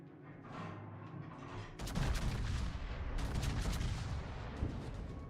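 Naval guns fire a volley in a PC warship game: a sudden loud blast followed by a dense rumbling barrage of overlapping booms and crackling reports that keeps going for several seconds, with no voices.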